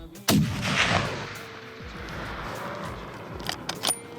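A single rifle shot fired with Winchester Deadly Passion ammunition at a red stag in New Zealand rings out as one loud outdoor crack, then fades into quiet field ambience with faint rustling and small clicks.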